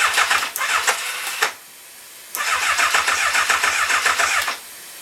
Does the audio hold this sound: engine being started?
yes